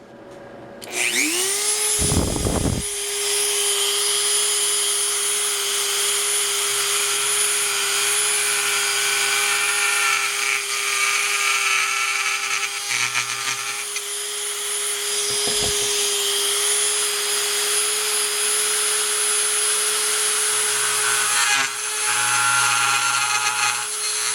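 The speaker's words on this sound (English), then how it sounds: "we'll just be using the Dremel tool" A Dremel rotary tool grinding into the circuit board of a Hioki DT4282 multimeter. The motor spins up to a loud, steady high whine and holds it throughout, with the pitch shifting slightly as the bit bites into the board.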